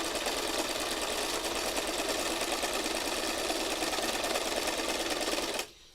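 A sewing machine hums steadily close by for about five and a half seconds as it stitches a fabric heart, then halts abruptly; no one speaks.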